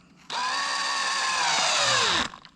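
A power drill motor working hard while tapping a hole, a loud sustained whine that starts abruptly, bogs down slowly in pitch under load, then cuts off, followed by faint clicks.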